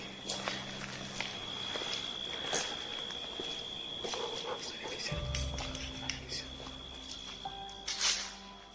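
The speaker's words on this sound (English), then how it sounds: "they heard what sounded like footsteps from a distance" Footsteps sound outdoors after midnight in scattered, irregular steps against a noisy background, with brief clicks and a low hum partway through.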